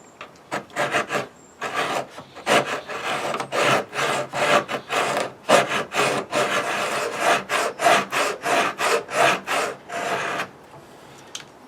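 Hand file rasping along the bevel of a carving knife blade, a long run of regular back-and-forth strokes, close and fairly loud, with brief pauses between passes.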